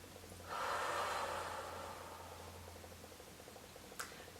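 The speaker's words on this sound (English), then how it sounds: "Deep breath." A single deep breath taken close up during a calm self-care tapping session: a strong, airy inhale that slowly fades into a softer exhale, ending with a faint click.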